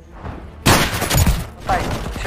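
Loud gunfire from a war film about Russian special forces, with a sharp burst of shots followed by a second volley, heavy and close with a rumbling low end.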